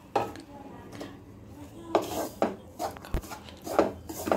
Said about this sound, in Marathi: इथं मी माझा रवाही मस्तपैकी भाजून चालला आहे